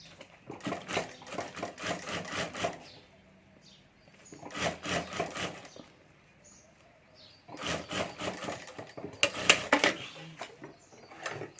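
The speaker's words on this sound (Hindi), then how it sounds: "तो इस तरह से यहाँ ऊपर सिलाई करके दूसरा पार्ट भी मैं जोड़ देता हूँ।" A sewing machine stitches the upper part of a homemade handbag, joining a second panel, running in three bursts of rapid, steady mechanical clatter with quiet pauses between, fairly close and alone.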